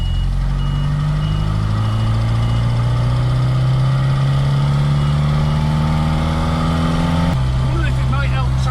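A 1969 Reliant Regal's engine drones loud and close from inside the car, its pitch climbing steadily as it pulls away, then dropping abruptly near the end as the revs fall.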